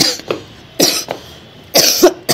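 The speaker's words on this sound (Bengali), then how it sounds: "এখনও কাশি কমেনি, আমার" Several sharp coughs from a woman still troubled by a lingering cough, coming in separate bursts with short pauses between, close and fairly loud with no talking.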